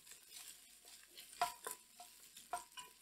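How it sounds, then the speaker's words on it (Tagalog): Onion and garlic sautéing in a pan, with a faint quiet sizzle under a few distinct metallic clinks and spatula taps spaced across the moment. "Sunod mo na yung onion. Dito, gisa mo lang din hanggang mag-welt."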